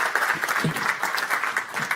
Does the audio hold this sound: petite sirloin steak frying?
no